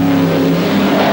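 Racing saloon cars from the 1971 Saloon Car Championship pass close by with a loud, sustained engine roar and droning pitch, filling the whole brief moment.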